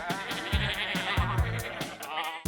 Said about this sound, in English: These are sheep. They go bah.